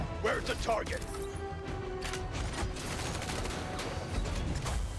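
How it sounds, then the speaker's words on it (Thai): Rapid machine gun bursts and mechanical clanks from a mech battle in the video game Mecharashi, a dense crackling barrage up close under a speaking voice, continuing throughout. "เอาฮิวแล้วถือปืนกลนะฮิวเขาก็ช่วยยิงได้อยู่"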